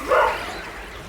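A dog gives one short, sharp bark close by, with a quick yelping burst and then near quiet.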